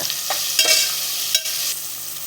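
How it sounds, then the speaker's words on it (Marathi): Onion and tomato cook in a pan for a prawn rice dish, giving a steady close sizzle with a few scraping stirs of a spoon, no voices. "कांदा आणि टोमॅटो आपण शिजवून घेऊया."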